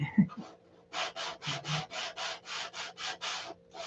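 Rhythmic sanding strokes on wood, about eleven even back-and-forth rasps in steady succession, close and fairly loud, with no talking.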